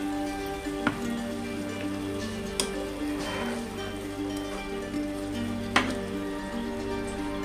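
Spice masala sizzling in a pan after a splash of bowl-rinsing water, a steady close frying hiss with a low hum beneath and a few sharp ticks and pops.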